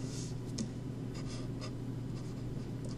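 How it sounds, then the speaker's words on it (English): A pen or marker writes out a differential equations solution, a steady faint scratching stroke sound with short brighter bursts, close and alone over a low constant hum. "Now we write out this solution."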